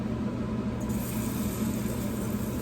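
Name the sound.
oil sizzling while frying cornbread batter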